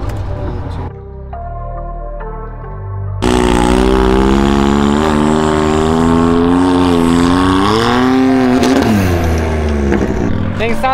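A truck project fitted with an LS2 engine revs hard nearby, its loud roar rising and falling in pitch through several pulls after a quieter idling start, with a turbo-like whine and some voices underneath.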